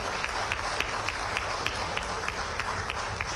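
An audience applauds at a live event promoting Madhya Pradesh in Dubai, with steady dense clapping and a few sharper accented claps throughout.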